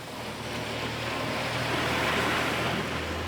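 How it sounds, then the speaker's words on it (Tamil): Floodwater after heavy rain gushing out through a cave-like opening, a steady rushing roar that slowly builds, with a low hum beneath and no voices. "தண்ணி அதுக்குள்ளால தான்டா வருது"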